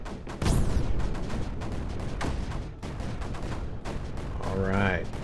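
Mortar and gun fire in the strategy game TerraMoon: a heavy opening blast followed by rolling, continuous artillery and gunfire rumble, loud and sustained, with a rising whistle near the end.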